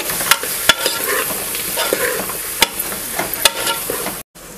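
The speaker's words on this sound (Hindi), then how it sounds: "इसको डाल देंगे और इसको अच्छे से मिक्स करेंगे लौकी को" A spoon stirs peeled, chopped bottle gourd with red chilli powder in a hot pan, giving a close scraping and clattering rhythm over a soft sizzle with sharp clicks of utensil on metal.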